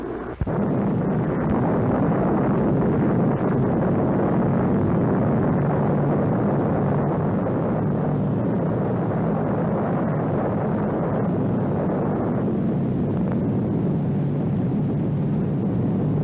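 An atomic bomb test explosion from a 1940s newsreel, a long sustained roar and rumble of blast and wind noise that fills the whole stretch at steady loudness, with no voices over it.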